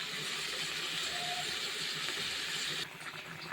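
Food frying in a pan over a low flame while a Bangladeshi potato and vegetable fry is cooked, a steady loud sizzling hiss that drops off abruptly near the end.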